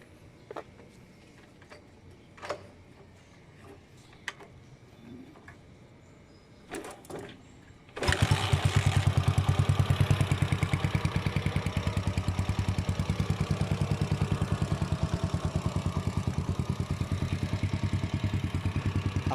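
A Kawasaki TMX 155 motorcycle, under restoration, sits quiet with a few faint clicks and taps before its engine catches at once and settles into a steady, close, rhythmic idle that holds to the end.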